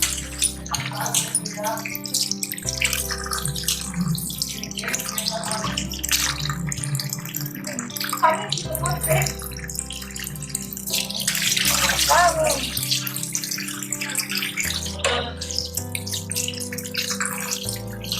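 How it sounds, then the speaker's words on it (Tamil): Raw chicken being washed in a bowl of water for a spicy chicken gravy, giving a continuous close splashing and sloshing with dripping, and lower murmurs heard faintly beneath. "நீட்டாக சிக்கன் கழுவுங்க."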